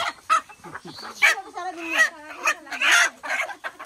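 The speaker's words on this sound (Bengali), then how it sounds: "খুবই তেজ আছে মুরগিগুলো।" Chickens cluck busily and loudly nearby, a run of quick, choppy calls with a few higher squawks in between.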